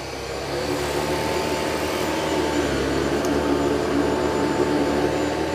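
A Dyson 360 Vis Nav robot vacuum runs across carpet and hardwood floors with a steady, loud, close whirring roar that kicks in after a brief moment and holds constant.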